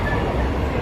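Inside a crowded Singapore MRT train, a steady rumbling hum of the moving carriage fills a brief moment, with muffled crowd noise blended in.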